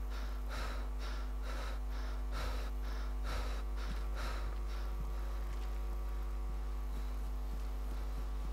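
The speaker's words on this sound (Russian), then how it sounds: "Чё ж ты как дышишь-то?" A player character in the DayZ Standalone video game breathes heavily in rhythmic gasping bursts, about ten quick breaths over a steady low hum, fading after the first five seconds.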